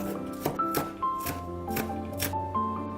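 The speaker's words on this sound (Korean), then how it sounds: "쪽파 한 대는 송송 썰어주세요." A knife slices a green onion finely on a cutting board in a Korean home kitchen, giving about seven crisp, evenly spaced chops over light background music.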